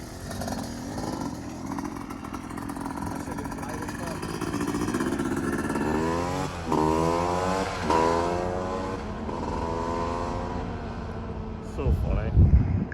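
A dirt bike, a Tri-Z 250 or a KTM 300, races past in a drag race, its engine a steady buzzing drone that rises near the end, with people talking over it.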